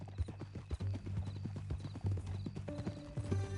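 Horse hooves clip-clop at a steady walking pace in Red Dead Redemption 2, sharp close hoofbeats repeating evenly throughout, with a brief tonal game cue near the end and no one speaking.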